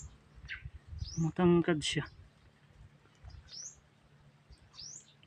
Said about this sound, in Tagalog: Kaibang ibon to. Malaki siya. Parang manok eh.